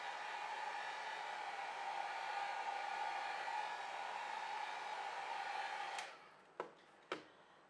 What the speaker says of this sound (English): And then I'm just gonna go over it once with my dryer and dry it real quick.